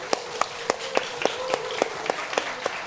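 Church congregation clapping during a worship service: sharp, evenly spaced claps in a steady rhythm, about ten in a row, fairly close and clear, with no cheering evident.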